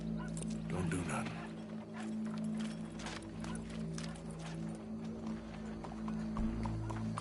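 Hooves clop along at a steady pace in Red Dead Redemption 2, mixed with a low hum and bits of background noise, with some voices faintly present.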